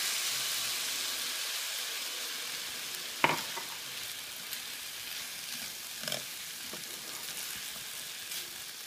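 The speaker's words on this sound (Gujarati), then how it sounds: "હવે આપણે નાખી દઈશું આપણું સોસ એની અંદર." Sauce poured into a pan of pepper steak sizzles steadily, a quiet broadband hiss with a few brief spatter and stirring clicks near the middle and later on, no talking.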